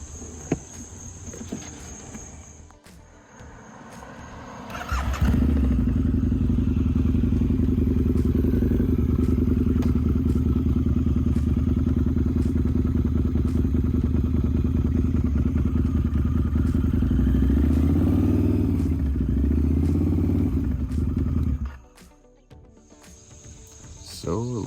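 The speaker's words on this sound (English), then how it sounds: "So I'll start it up." A Harley-Davidson V-Rod with a worn slipper clutch fires up after faint crickets and idles loud and close with a steady throbbing rumble for about seventeen seconds before cutting off, leaving crickets chirping again.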